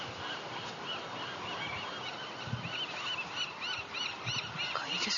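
A bird calls outdoors on an island at night, with a series of repeated honking, fowl-like cries rising over a steady hiss of background noise at moderate distance.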